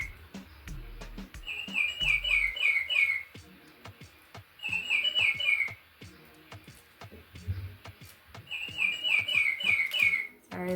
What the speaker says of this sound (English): that's my bird clock